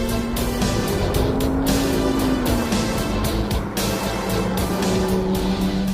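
A 2005 Lamborghini Gallardo supercar engine holds a loud, sustained drone whose pitch slowly rises and falls, heard up close and steady throughout.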